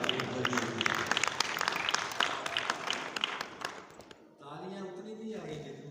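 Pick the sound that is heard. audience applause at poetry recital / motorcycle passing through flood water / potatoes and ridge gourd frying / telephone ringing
audience applause at poetry recital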